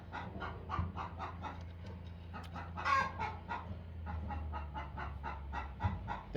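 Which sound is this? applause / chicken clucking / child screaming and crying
chicken clucking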